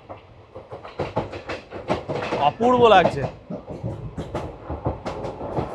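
The Balurghat Express rumbles along with rhythmic clickety-clack and wheel screech, heard from inside a crowded general coach while a person talks over the steady train noise.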